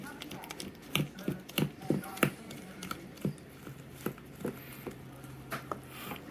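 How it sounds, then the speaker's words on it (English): Biscuit batter is stirred by hand in a bowl without a whisk, producing irregular clacking taps and soft sloshing knocks, close and moderately loud, repeated at an uneven pace. "all I'm gonna do is just keep mixing this up just like this"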